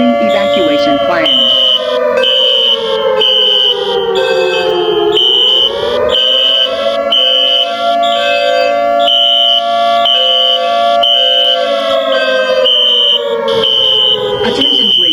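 A building fire alarm sounds close and loud, pulsing in a steady repeating electronic pattern with a sweeping tonal wail underneath, continuous throughout.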